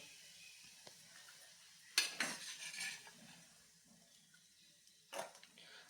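Cooked lemon rice (chitranna) is scooped into a serving bowl: two bursts of scraping and spoon-on-pan clatter, one longer at the start and a shorter one near the end, over a quiet kitchen background.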